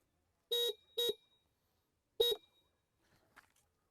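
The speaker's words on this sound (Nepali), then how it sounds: "यसको हर्न एकदमै सानो छ सो क्राउडमा बजायो भने यो हर्न बजाएर नबजाए थाहै हुँदैन" A Hero Xoom 125R scooter's small, weak horn gives three short, thin beeps: two in quick succession, then a third after a pause, followed by faint background noise.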